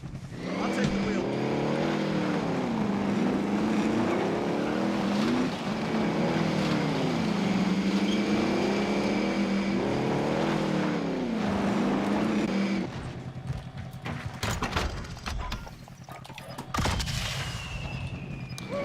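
A vehicle drives in a battle royale video game. The engine drones steadily and its pitch swings up and down as it speeds and shifts, then it drops out, leaving scattered sharp gunshot-like cracks.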